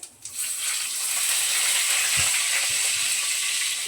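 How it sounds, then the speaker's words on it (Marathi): Cumin seeds and a torn bay leaf sizzle steadily in hot oil in a home kitchen pan, a bright, even crackle that rises after a soft start and holds loud, broken by a few faint clinks. "यात थोडंसं तेल घातलं आहे आणि जरासं जिरं थोडं जिरं आणि हे तेजपानाचं तोडून टाकते"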